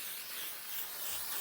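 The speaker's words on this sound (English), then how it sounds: "mist my face with the L'Oreal Infallible 3-Second Setting Mist" A steady, airy hiss of L'Oreal Infallible 3-Second Setting Mist sprayed onto a face, misting continuously for over a second, close and fairly quiet, with no talking.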